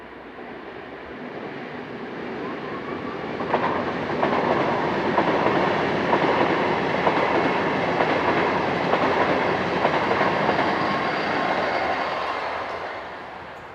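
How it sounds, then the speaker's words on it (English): An SBB train on the Zurich to Basel service rumbles past in a long, steady roar with faint rhythmic clatter from the wheels, swelling in the middle and easing off toward the end. "This is the 1108 service from Zurich to Basel."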